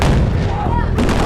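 A large staged explosion on the Transformers 2 film set goes off in a loud, close boom with a rumbling tail that fills the moment and then gives way to a second sharp blast.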